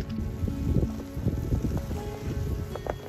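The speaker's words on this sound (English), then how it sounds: "The wind's coming from the northeast, or supposed to" Gusty wind during a northeaster winter storm in a backyard chicken yard, a steady broadband roar with rumbling buffeting against the microphone that continues throughout.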